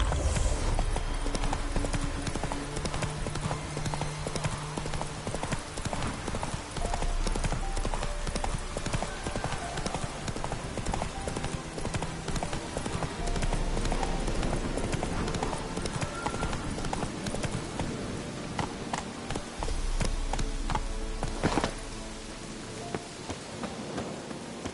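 A horse gallops in The Witcher 3, its hooves pounding out a steady, fast clip-clop rhythm under falling rain and occasional distant thunder, with a musical score running throughout.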